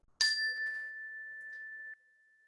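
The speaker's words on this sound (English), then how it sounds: "I'll just ring the bell." A single bell is struck once, giving a clear, bright ding whose pure tone rings on steadily for nearly two seconds before stopping, with no talk around it.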